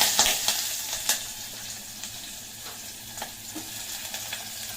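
Chopped onion, green chilli and curry leaves fry in hot oil with tempering seeds, giving a steady close sizzle broken by a few sharp crackles and spatters, with no voices.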